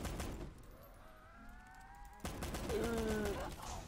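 Gunfire in Black Ops 3 custom zombies, loud bursts of rapid shots at the start and again in the second half, with a quieter gap between and tonal game effects in the background.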